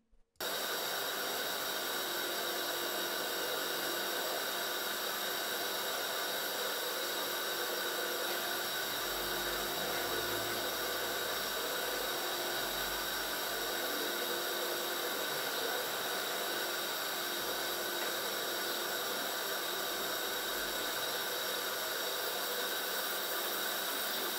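A Fissler pressure cooker cooking meat gives a steady, loud, continuous hiss of escaping steam that runs unbroken for the whole stretch, with faint low rumbling underneath.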